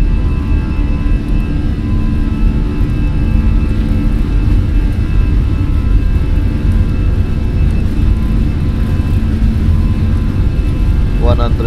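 An airliner accelerating down the runway on its takeoff roll, a steady loud engine roar with broad rumble filling the whole stretch; a voice speaks over it.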